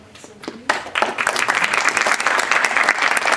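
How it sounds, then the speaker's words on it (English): Audience applause after a senior management consultant from IBM is introduced at a talk, starting after a brief pause and swelling into dense, steady clapping from a large crowd that continues to the end. "So round of applause for Mr. IBM Robertson, please"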